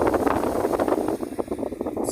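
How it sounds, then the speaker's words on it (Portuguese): Strong outdoor wind buffeting the microphone beside a São João bonfire being built, a continuous loud rumbling roar with gusty pulses and no voices. "Tá ventando muito."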